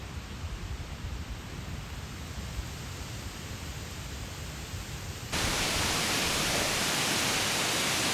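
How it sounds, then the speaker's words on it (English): Wind buffets a microphone on a forest trail near a campground, a steady broadband roar that jumps suddenly louder partway through and stays rough and constant, with no voices. "Apologize for the wind"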